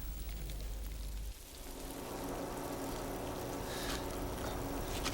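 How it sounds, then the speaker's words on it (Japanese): Steady rain pours down with a dense, even hiss that grows fuller after a brief dip early on, with no voices. "やっぱり雨になったな。"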